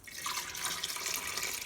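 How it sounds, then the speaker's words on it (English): Water pours steadily into a pot of walnut dye with yarn in it, a soft, continuous splashing trickle that is close and fairly quiet, with no talking. "I'm just going to add a tiny bit more water to this,"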